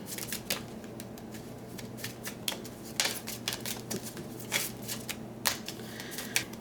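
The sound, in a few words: playing cards being shuffled and drawn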